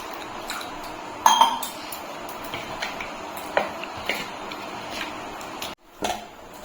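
A spoon scrapes and clinks against a bowl while mixing a thin batter of flour and chopped leaves, with intermittent sharp clinks over a soft, steady stirring sound, close and clear.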